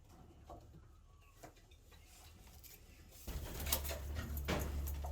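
A racing pigeon coos nearby in soft, low repeated murmurs, joined by faint scattered taps and rustles that grow busier toward the end.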